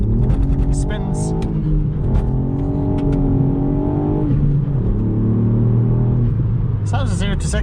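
Ford Fiesta ST Mk8 in sport mode doing a launch-control start: the engine revs hard and climbs through rising gears with a loud, continuous drone heard from inside the cabin, a brief shift dip midway.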